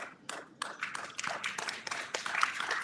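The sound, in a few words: audience applause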